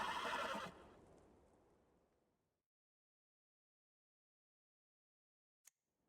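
A horse in a fantasy game quest gives a loud neigh that trails off over about two seconds into silence, followed later by a single sharp hoof clop.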